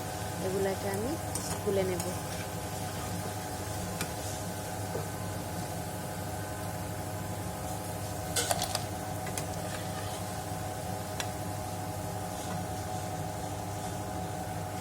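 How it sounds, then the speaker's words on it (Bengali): Drumstick flower fritters frying in oil, a steady soft sizzle with an occasional louder spatter and clink, close and continuous. "এবার একই রকম ভাবে বাকি বড়াগুলোকেও ভেজে নেব"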